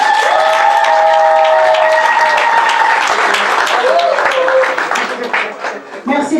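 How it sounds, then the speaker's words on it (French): Loud audience applause and cheering at a French awards ceremony, thick clapping over sustained tones, thinning and softening near the end. "Je vous demande d'applaudir d'abord très fort."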